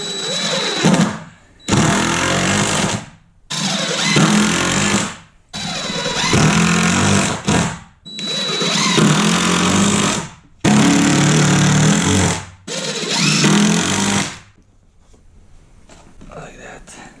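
A power drill drives 1-5/8 inch screws into the framing of a school bus being converted with bunk beds, loud and close, in about seven separate bursts of a second or two each with short silent gaps, then quiet.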